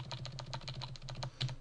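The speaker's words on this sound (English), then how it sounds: "Just hit down on your keyboard" Rapid, steady keystrokes on a computer keyboard during a session in After Effects, a dense run of close clicks lasting under two seconds with no voices.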